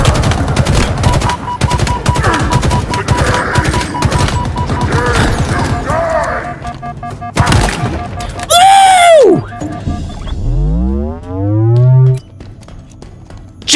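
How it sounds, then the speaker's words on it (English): Scrap cannon in a video game firing a rapid burst of heavy shots, followed by loud swooping, booming blasts and rumbling explosions, with a voice reacting over the gunfire. "Scrap cannon, is that what that thing was?"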